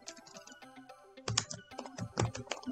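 Rapid, steady typing on a computer keyboard while writing code, close and clear, a dense run of key clicks that quickens and grows louder toward the end, with no talk.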